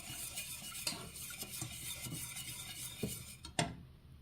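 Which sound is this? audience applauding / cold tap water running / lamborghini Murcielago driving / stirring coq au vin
stirring coq au vin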